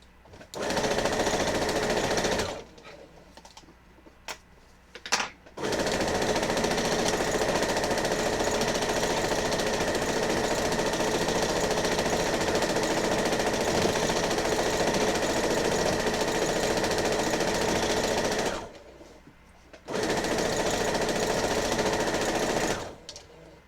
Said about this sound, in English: Let's start sewing this together.